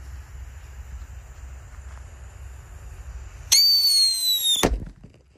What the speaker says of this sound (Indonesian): Whistling Thunder guys sudah menyala.